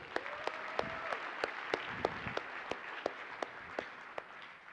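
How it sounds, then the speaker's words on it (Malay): Sparse, distinct claps ring out from an audience at a live seminar, spaced roughly every third of a second, with a faint steady tone and a brief murmur beneath them. "Tepuk tangan sikit untuk dia."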